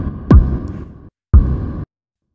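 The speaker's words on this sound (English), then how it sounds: "So we're getting that reverb-y sound. It's quite a big reverb that's being brought in and out by the LFO" Two booming synthesized kick hits from the U-he Zebra synth, each a sharp downward-sweeping thump followed by a big, LFO-modulated, washy reverberant tail that cuts off abruptly.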